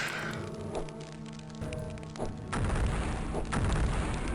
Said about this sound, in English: I'll see if I can kill him with the grenades, I guess.